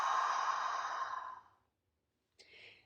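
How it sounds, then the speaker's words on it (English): A long open-mouthed exhale, like fogging up a mirror, breathy and close for about a second and a half, followed by silence and then a shorter, softer breath. "Open your mouth and just like you're fogging up a window or the mirror."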